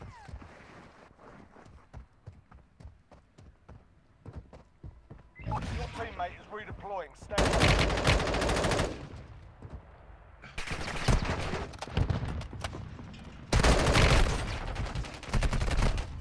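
Bursts of automatic gunfire from a weapon in the mobile shooter Warzone Mobile, loud and rapid, arriving in several separate volleys after quieter in-game sounds and voice chatter.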